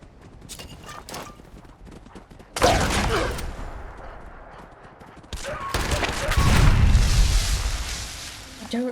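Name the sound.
explosions in Fallout 76 video game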